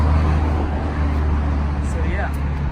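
Constant roar of cars and trucks on a busy highway close by, a dense low rumble filling the whole stretch with a faint passing whine partway through.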